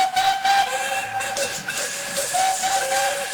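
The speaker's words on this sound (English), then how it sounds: "This was the signal for a chorus of whistles from engines large and small." A chorus of steam engine whistles from engines large and small, several steady shrill tones held together with hissing steam, loud and continuous with no talk.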